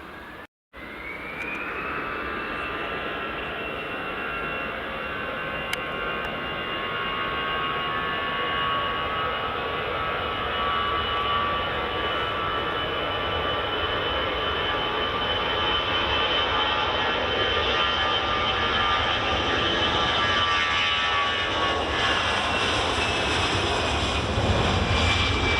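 An EasyJet jet airliner takes off from runway 24 at Edinburgh Airport on a summer evening, a loud, steady engine roar with a whining high tone that holds for the whole stretch and slowly drifts in pitch.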